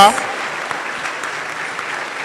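Loud applause from a campus event audience, steady dense clapping that fills the whole stretch without a break.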